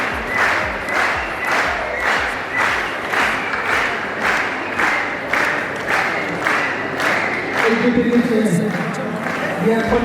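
Wedding guests clap in a steady rhythmic beat during the ring exchange, loud and close, with crowd voices and cheering rising over the clapping toward the end.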